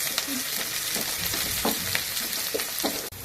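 Chopped onions and green chillies fry in oil with bay leaves and cloves, giving a loud continuous sizzle close up, broken by brief stirring scrapes.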